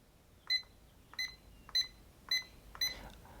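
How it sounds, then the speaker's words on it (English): Five short, clear electronic beeps from a Slevio portable gym timer, evenly spaced about half a second apart, moderately loud against a quiet background. "The loudness level of the beep is not so bad either."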